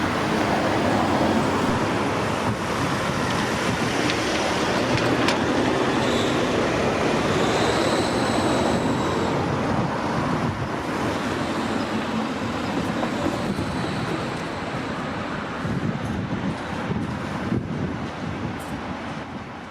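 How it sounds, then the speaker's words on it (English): A northbound train from Barrow rolls into a station on the single-track Cumbrian Coast Line, a loud continuous rumble with wind noise and faint high brake squeals as it slows. "A northbound train arrives from Barrow."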